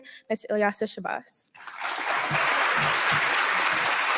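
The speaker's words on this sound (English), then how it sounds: "please join me in giving a round of applause and extending a warm welcome to our 2022 keynote speaker" An audience bursts into applause for a keynote speaker at a lecture hall event, the dense clapping rising right after a short spoken introduction and holding steady and loud to the end.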